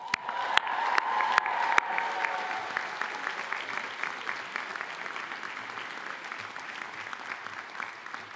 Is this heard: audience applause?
yes